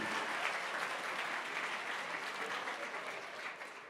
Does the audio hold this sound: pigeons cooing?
no